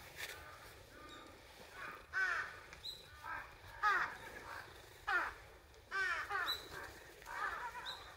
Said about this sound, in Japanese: またカラスが来るよ